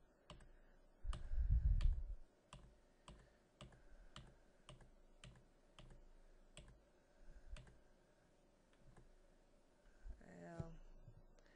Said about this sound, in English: I'm just using the arrow keys again to scroll through these designs.